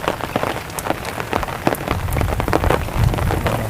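Heavy rain pours steadily in a village in Botad, Gujarat, a dense hiss of drops drumming on surfaces with no voices.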